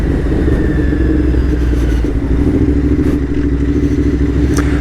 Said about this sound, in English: That's the first time I've let the clutch out on this bike with the bike in gear